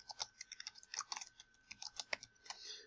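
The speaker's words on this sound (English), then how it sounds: "I'm actually typing on a pretty small keyboard right here, so I'm making a lot of mistakes." Quiet, close keystrokes on a small computer keyboard, tapping in uneven bursts and short pauses with no talking.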